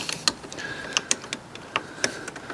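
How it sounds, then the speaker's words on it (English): Open-ended spanner working a corroded earth strap bolt on a Fiat 500, heard as sparse faint metallic ticks and clicks in an irregular rhythm, with a thin squeak partway through. "I'm going to have to get the open-ended spanner on"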